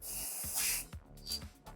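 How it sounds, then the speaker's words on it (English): An aerosol can of 3D scanning spray hisses out in a couple of short, close bursts onto a surface, with brief rattling and rubbing between them. "you just shake it and you scan spray the surface"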